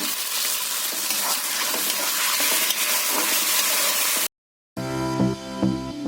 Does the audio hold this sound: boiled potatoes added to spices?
yes